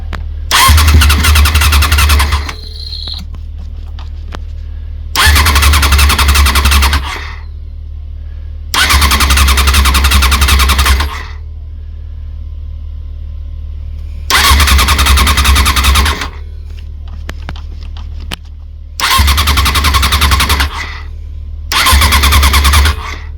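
A 1994 Suzuki RF600R motorcycle cranking repeatedly without catching, six loud bursts of starter whirring of about two seconds each, separated by quiet pauses.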